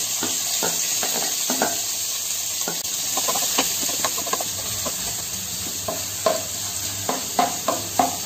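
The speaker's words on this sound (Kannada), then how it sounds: "ನೆಕ್ಸ್ಟ್ ನಾವು ಸಣ್ಣಗೆ ಹಚ್ಕೊಂಡು ಈರುಳ್ಳಿನ ಮಿಕ್ಸ್ ಮಾಡ್ಕೋಬೇಕು ಎಣ್ಣೆಲಿ." Finely chopped onions frying in oil over a medium flame, stirred with regular scraping strokes above a continuous soft sizzle and hiss, sharper clacks toward the end, no voices.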